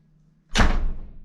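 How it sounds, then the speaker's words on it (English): A house door is let go and swings shut with a single loud, close slam that booms briefly and then decays, with a faint hum beforehand. "I'm just going to undo the door and I'm just going to let it go."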